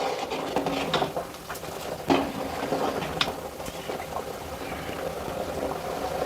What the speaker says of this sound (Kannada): ಇವಾಗ ಇದು ಚೆನ್ನಾಗಿ ಕುದೀಲಿ ಸ್ವಲ್ಪ ಹೊತ್ತು, 1-2 ನಿಮಿಷ ಚೆನ್ನಾಗಿ ಕುದಿಸ್ಕೊಳ್ಳೋಣ